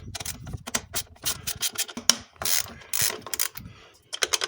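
A ratchet clicks in quick irregular bursts as 13mm bolts on a DPF gasket are backed out, the pawl chattering up close between short pauses and handling noises, with no talking.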